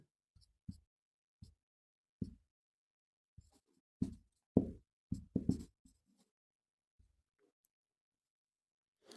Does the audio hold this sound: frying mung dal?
no